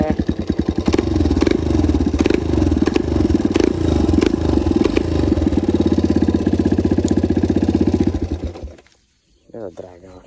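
A motocross motorcycle engine idles loudly and close, a rapid pulsing thump with clattering overtones that runs steadily for about eight seconds before cutting off, followed by a short pause and a voice speaking.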